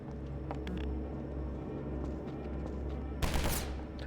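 Pistol fire in the video game Half-Life 2, shot as fast as the button is clicked: scattered sharp reports over a low, steady engine-like drone, ending in a loud burst of rapid shots near the end.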